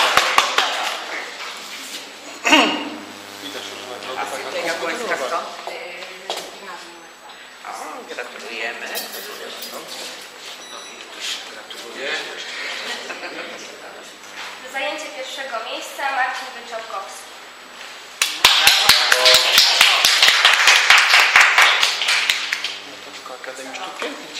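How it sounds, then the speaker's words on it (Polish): Audience applause at a Christmas competition award ceremony bursts out loud and dense near the end, following a stretch of a voice announcing winners over a hall. "No duże brawa."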